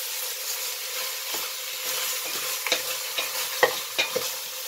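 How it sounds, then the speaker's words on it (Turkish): Meat for kavurma sautéing over high heat, a steady broadband sizzle with scraping stir strokes and a few sharp ticks and pops near the end, close and continuous, no voices. "O yüzden yüksek ateşte etinizi güzelce soteleyin."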